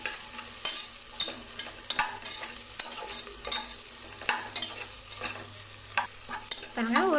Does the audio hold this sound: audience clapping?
no